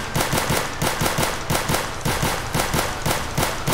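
Rapid automatic gunfire in a Roblox shooter, a steady burst of sharp, closely spaced shots running without pause for several seconds, loud and close with no talk over it.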